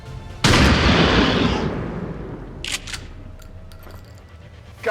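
A single heavy shot booms in XCOM 2 with a long rumbling decay, followed by a few faint clicks and small mechanical clatters, with no voices.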